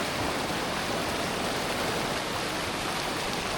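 Strong current of the Bagsit River in Palauig, Zambales, a steady, loud, close rush of flowing water that fills the whole clip without pause and with no voices.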